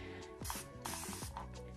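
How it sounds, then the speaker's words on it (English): A handheld water spray bottle mists onto the lace of a lace front wig in two or three bursts of hissing spray, close and fairly loud, with a faint mechanical trigger clicking between the bursts. "you could take just your average water bottle and start just spraying right at the"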